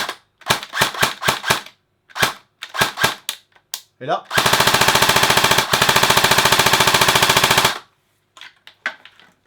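Airsoft gun running on a different battery fires several short bursts of rapid shots, then one long sustained loud full-auto burst, with a few more brief shots after; a voice speaks briefly.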